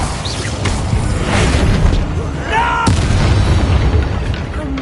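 In the video game Hogwarts Legacy, an Incendio fire spell is cast with a sharp whooshing burst and booming impacts amid ongoing combat noise, followed by a brief rising magical tone.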